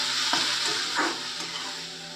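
A vegetarian sago momo filling seasoned with salt and sugar is stirred in a hot pan, giving a steady hiss with a few soft scraping stirs close by and no voices.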